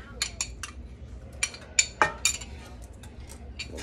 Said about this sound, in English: We'll go ahead and stir.